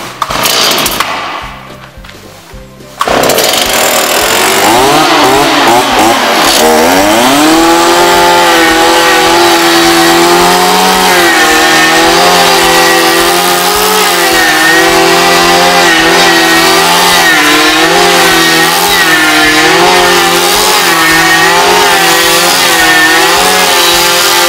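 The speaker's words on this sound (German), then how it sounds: "Aber wenn wir das jetzt abhobeln, dann sollte man sehen, wie die Oberfläche nachher wird." An electric planer shaves a weathered wooden board, a loud, steady motor whine that spins up after a brief quieter start and then holds a droning, slightly wavering pitch as it cuts.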